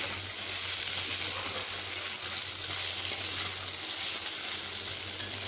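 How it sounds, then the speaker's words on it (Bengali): Potatoes and tomatoes fry together in a pan, giving a steady close hiss of sizzling oil with faint stirring and no talk. "আলুর সঙ্গে টমেটোগুলোকেও বেশ ভালোভাবে একসঙ্গে এইভাবে ভাজবো"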